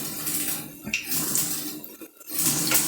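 Vadai batter frying in hot oil, with a continuous loud bubbling hiss that swells and dips, and a couple of faint utensil clinks near the pan.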